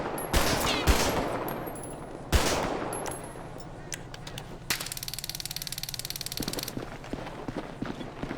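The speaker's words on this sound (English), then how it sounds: "I do have custom gun sounds in, as y'all can hear" Custom gunfire in a GTA V roleplay game on a FiveM server: several loud single shots, then a rapid sustained automatic burst of evenly spaced rounds, followed by scattered further shots, with no talking.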